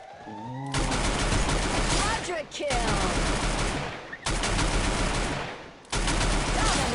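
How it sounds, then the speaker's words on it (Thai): Rapid automatic gunfire from the Free Fire battle royale game rattles in three long loud bursts separated by short pauses, with brief game effects at the start. "มีเสียงปืนมาจากทางนั้น"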